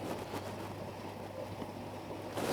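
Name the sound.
water pump running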